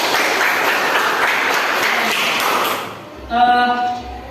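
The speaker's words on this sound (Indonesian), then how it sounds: "Oke, tepuk tangan." Classroom applause after a student group presentation: a burst of clapping from a roomful of students that fades out after about three seconds, followed by a short humming tone.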